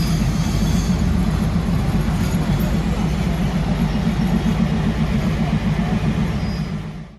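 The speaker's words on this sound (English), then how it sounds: "Watching the train pull into this historic spot" A train rolls across the rebuilt bridge on the River Kwai at Kanchanaburi, a loud continuous low rumble and clatter of wheels on track that holds steady throughout before fading at the very end.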